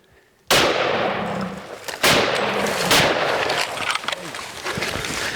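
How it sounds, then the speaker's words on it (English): A rifle shot fired at a lion on a hunt in the wild Niassa reserve of Mozambique, an abrupt loud blast with a long rumbling decay, followed by two more sharp impacts or shots and outdoor noise. "Safety off, Corey. Take him"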